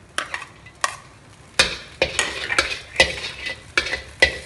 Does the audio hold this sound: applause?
no